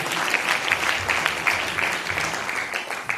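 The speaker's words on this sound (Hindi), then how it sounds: "जोरदार ताली होना चाहिए।" Steady clapping from an indoor audience at a DXN business meeting in Amritsar, a dense, even wash of many hands lasting throughout, loud and close, with no one speaking over it.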